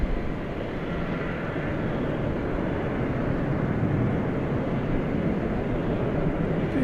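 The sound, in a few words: Turkish Airlines Boeing 787 Dreamliner taxiing for takeoff at DFW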